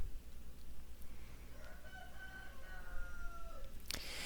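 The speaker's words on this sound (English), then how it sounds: "our rooster is wanting to make his appearance" A rooster crows in the distance, a drawn-out call rising and falling over a steady low background rumble, faint and outdoors.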